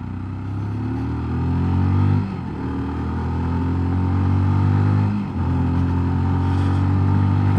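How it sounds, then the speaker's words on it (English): A Sinnis GPX 125 motorcycle accelerates up through the gears, its close, buzzing engine climbing in revs and dipping briefly at two quick gear changes before rising again. "I'm up through the gears here, 4th, 5th, I'm doing 34 miles an hour, 6th at 36 miles an hour, and the revs seem to go up"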